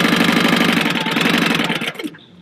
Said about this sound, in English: I am sewing at a 1/4 inch seam allowance